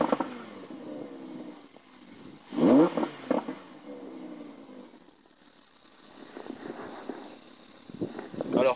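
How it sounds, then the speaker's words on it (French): An Audi R8 V10 Spyder engine gives a brief throttle blip, a short rising rev that swells and drops away, with someone talking before and after it. "Petit coup de gaz"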